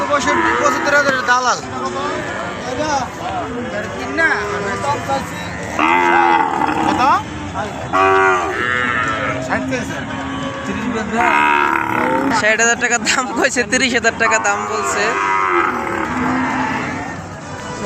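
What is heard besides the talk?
dairy cows mooing at cattle market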